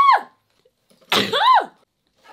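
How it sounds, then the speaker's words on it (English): A woman sneezes twice in a row, each burst loud and close with a sharp breathy onset, separated by about a second of quiet, with the start of another at the very end. "Oh, shit. I'm gonna sneeze."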